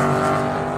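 A race car engine on a racetrack roars loudly and steadily at high revs, a continuous close-up drone with no pauses or voices over it.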